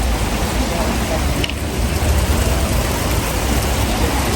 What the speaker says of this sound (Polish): A nas znowu deszcz złapał.